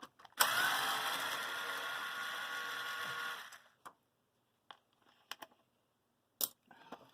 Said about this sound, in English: quite quick for an electric screwdriver. It is a bit noisy.